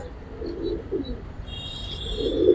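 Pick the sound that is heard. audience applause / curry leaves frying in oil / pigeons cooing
pigeons cooing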